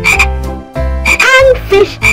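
A cartoon frog croaks in a children's alphabet lesson, loud and close: a series of harmonic, buzzing croaks in short bursts separated by brief pauses, with no talking over them.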